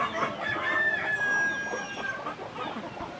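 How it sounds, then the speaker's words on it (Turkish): A small Sultan-type hen clucks at a poultry yard among other chickens, with busy, overlapping calls and a drawn-out crowing tone. The calls are close and fairly loud, steady throughout, and no one speaks. "Böyle bir tavuk."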